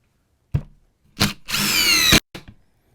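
Dewalt DCF887 20V Max 3-speed impact driver driving a screw on its fastest setting: a brief spin-up, then a loud, close, rapid hammering burst of about a second that stops abruptly, followed by a short tail.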